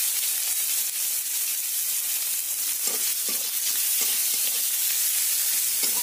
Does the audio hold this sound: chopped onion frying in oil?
yes